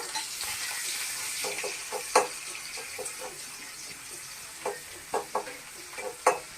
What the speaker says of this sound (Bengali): তো দেখো আমি পেঁয়াজটা দিয়ে নিয়েছি